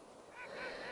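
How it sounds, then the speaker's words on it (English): A flock of waterfowl calls outdoors, a steady stream of honking, quacking cries that swell and grow louder across the second, with no talking. "A whole bunch of ducks."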